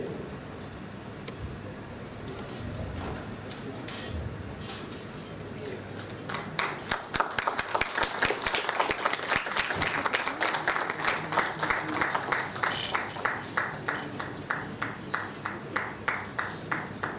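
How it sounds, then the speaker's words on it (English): Audience applauding at a conference certificate presentation: scattered claps and crowd murmur at first, then steady rhythmic clapping from the hall that builds and continues, with some talking underneath. "Please give him a huge round of applause."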